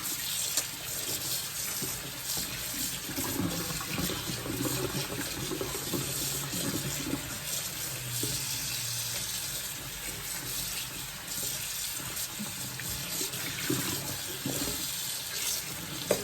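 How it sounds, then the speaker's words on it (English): Cold tap water runs steadily into a sink, rinsing a dress freshly dyed teal. The broadband rush stays close and even throughout, with no talking. "I'm just, rinsing it with cold water."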